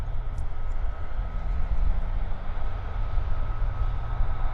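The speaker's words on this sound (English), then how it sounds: "We've got another WestJet taxiing down." A WestJet airliner taxis at Vancouver Airport, its engines giving a steady low rumble and whine at moderate distance, continuous throughout without talk.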